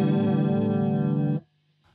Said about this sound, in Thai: ต่อไปเป็นเสียงคอรัสนะครับผมเสียงคอรัสก็จะมี2ปุ่มนะ